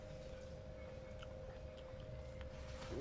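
Someone chews soft fig fruit close by, quiet wet mastication sounds over a faint steady hum, with a louder bump right at the end.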